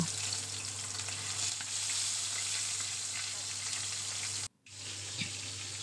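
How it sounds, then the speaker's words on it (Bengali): Rohu (bata) fish fry in hot mustard oil with a loud, even crackling sizzle that cuts out briefly near the end and then returns, with no one talking. "সরিষার তেলটা গরম হয়ে গেলে আমি মাছটা দিয়ে দেব আমার তেলটা গরম হয়ে গেছে মাছগুলো খুব ভালোভাবে এক পিট ভেজে নেব"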